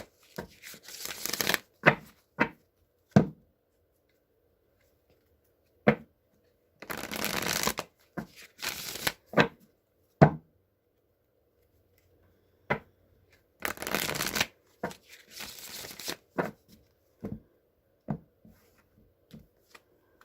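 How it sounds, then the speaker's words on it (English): A tarot deck is riffled and shuffled in three quick bursts, each followed by sharp taps and soft slaps as the cards are squared and cut. "I'm going to shuffle 3 times, cut the deck, and draw a card"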